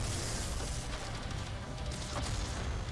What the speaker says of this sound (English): No, explosions don't do anything.